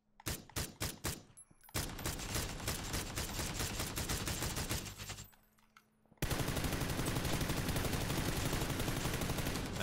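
Gunfire in PUBG: a few sharp separate shots, then long rapid automatic bursts, a brief pause, and another sustained loud barrage that runs to the end.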